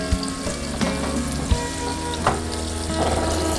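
Tofu hamburger patties fry steadily in an oiled pan, a loud, continuous sizzle and crackle with occasional small pops and clinks, no talk.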